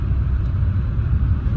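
A car drives along a road near Srinagar on a Kashmir road trip, its steady low engine and tyre rumble heard from inside, loud and continuous.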